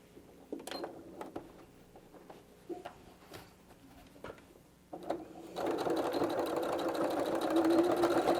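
A few scattered clicks and taps from handling a sewing machine and canvas tote bag fabric, then the machine starts stitching the seam in a continuous, fast, close whirring run that carries to the end.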